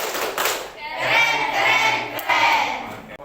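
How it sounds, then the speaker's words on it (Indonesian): An audience performs a 'tepuk keren' cheer clap for group 3 at a school presentation, with rhythmic group clapping mixed with many voices chanting together, loud and fairly close throughout. "Tepuk keren dulu untuk kelompok 3."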